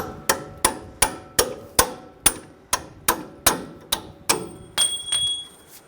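Steel punch struck repeatedly with a hammer to drive out a strut bolt on a 2011-2018 Ram 1500 3.6L V6 front suspension, about a dozen sharp metallic blows in steady rhythm, close and loud, ending in a ringing clang.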